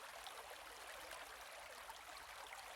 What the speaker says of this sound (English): as loud as the sounds are above, the flow of water dominates